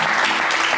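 A short burst of dense studio audience applause for a contestant on a television game show, steady and close throughout.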